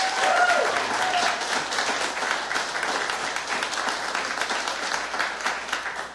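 A studio audience at a live bluegrass radio show gives a musician a steady, full round of applause lasting several seconds, with a brief vocal tone at the start.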